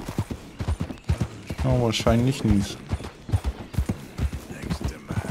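Horse hooves clip-clop in the video game Red Dead Redemption 2 as a steady, rhythmic run of clear beats throughout, with someone speaking briefly over them midway.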